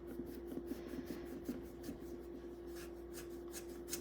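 A knife saws through the tough end of a raw rutabaga, a steady faint scraping and rasping with soft rhythmic strokes over a low background hum.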